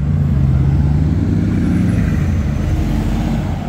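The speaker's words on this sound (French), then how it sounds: "La deuxième Chiron qui part de Juan." A Bugatti Chiron supercar pulls away in Juan-les-Pins, its engine giving a continuous, fairly loud drone with a low growl for a few seconds.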